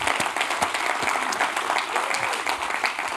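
An audience at the Bridge Summit 2016 applauding at a conference, dense continuous clapping from many hands in a hall, loud and sustained for the whole few seconds.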